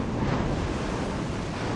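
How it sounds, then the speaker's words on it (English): Ocean waves and surf breaking on a sunny beach, a continuous loud wash of water with wind buffeting the microphone, no voices. "We finally have some waves."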